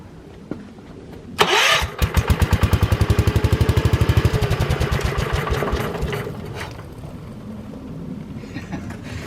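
A 1956 Economy tractor engine, belted to a hydraulic pump, cranks briefly with a loud burst, then catches and runs with a fast, steady chugging beat that gradually settles and fades into a softer idle.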